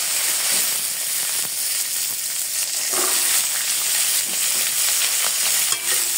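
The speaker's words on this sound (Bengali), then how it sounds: "আর কাঁচামরিচ ফেলে রেখেছিলাম, কাঁচামরিচগুলো দিয়ে দিব।" Green chilies fry in hot oil in a wok with a loud, continuous sizzling hiss, broken by faint stirring scrapes and small crackles.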